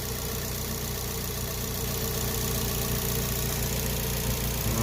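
Turbocharged Suzuki Swift ZC31S engine idling, heard up close under the car as a steady, loud, continuous drone with a faint ticking texture and no voices.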